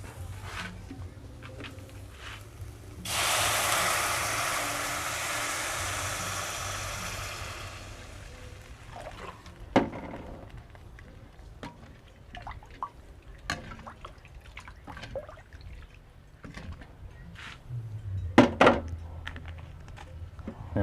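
Water is poured into a pot of mushroom tom yum while it cooks, giving a loud hissing rush of several seconds followed by faint drips, taps and clinks.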